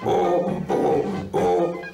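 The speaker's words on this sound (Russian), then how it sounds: "Туба – это самый большой инструмент в духовом оркестре." Three loud, buzzy low brass notes from a tuba, each held briefly with short gaps between them.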